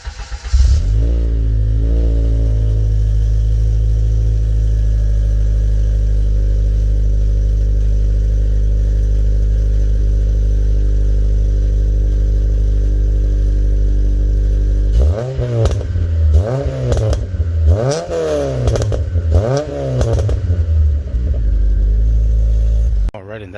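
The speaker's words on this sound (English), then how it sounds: "How about a little sound clip of how it sounds now?" A 2006 Honda Civic Si with a K20Z3 engine on its stock exhaust idles with a deep, steady drone, then revs repeatedly in rising and falling sweeps near the end, loud and close.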